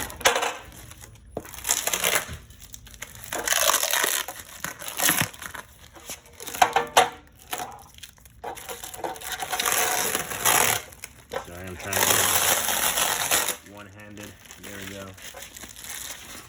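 Protective plastic film is peeled off a stiff aluminum Magliner 301019 folding dolly nose extension, making close, continuous crinkling and crackling with tearing bursts, and a voice speaks briefly near the end.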